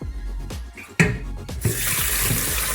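A kitchen tap runs into a sink as water is drawn for heating. A few clunks and knocks give way to a steady, loud rush of flowing water.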